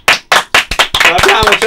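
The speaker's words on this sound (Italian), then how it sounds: "Anche di là in ufficio applaudono" Clapping in an office, several loud sharp hand claps near the mic, joined by a blur of scattered applause from a few people in the background.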